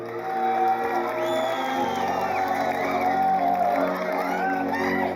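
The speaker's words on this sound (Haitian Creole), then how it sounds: "battre un gros bravo pour toute belle effort à eux" Audience at a live music show in Haiti cheering, whooping and clapping in a steady, dense crowd roar, with sustained musical tones running underneath.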